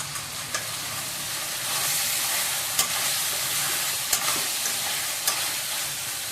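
Chicken curry sizzles steadily in a pan while a spoon stirs it, giving a continuous frying hiss with a few sharp scrape clicks against the metal, close up and with no voices.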